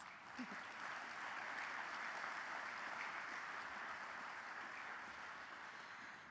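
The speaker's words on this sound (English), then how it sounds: "So let's give them a round of applause." Sustained crowd applause fills the hall at a grand opening ceremony for a US squash center, a dense steady roar of many hands clapping at even loudness throughout, with no talk over it.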